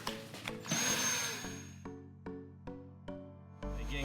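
A power drill mixes silver pigment into epoxy for a kitchen countertop, revving in one long whining burst, then a series of short start-stop pulses, loud and close.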